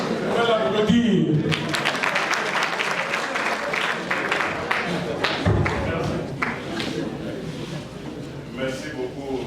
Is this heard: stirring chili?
no